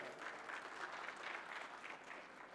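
Steady applause from a crowd at a Ramayana festival stage, dense continuous clapping heard from a distance and fairly faint, without a break.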